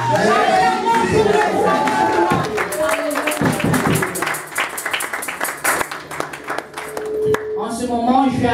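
A church congregation at a women's day service claps and cheers in praise of the Lord, loud dense applause mixed with shouting voices and a crowd roar, close and sustained.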